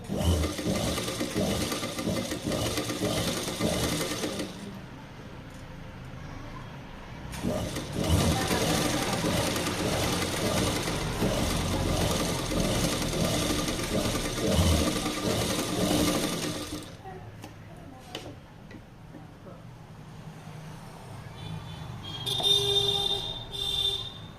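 A sewing machine stitches fabric along a neckline, running in a fast, steady mechanical whir for long stretches, pausing and restarting, with people talking quietly in between.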